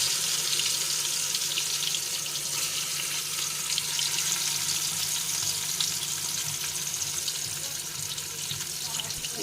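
Food frying in oil in a pan, a steady loud sizzle with dense crackling that runs unbroken from start to finish, close by with no talk.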